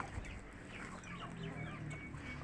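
A quarantined hen sick with coryza clucks softly several times in a farm setting, faint and steady against a low background.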